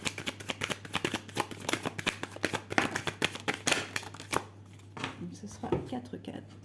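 Tarot cards are shuffled by hand in quick, crisp riffling bursts, close and fairly soft, with a pause and a few last cuts near the end.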